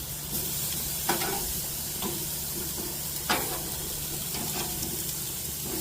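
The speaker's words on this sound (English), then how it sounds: "these are just to sear the outside, and then we will cook it on a lower heat" Steak searing on a hot grill makes a steady, close sizzle, broken by a few sharp pops and scrapes, with no talking over it.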